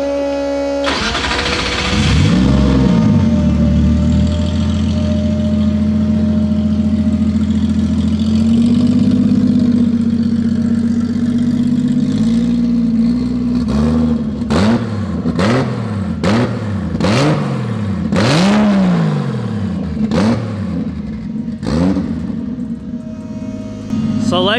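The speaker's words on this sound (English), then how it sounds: "Like we said, that fuel pump is not quiet." A Nissan R33 GTR race car with a 2.8L stroker engine starts and idles loudly, with a steady whine from its noisy fuel pump. Several sharp throttle blips and revs follow in the second half, with talk over the engine.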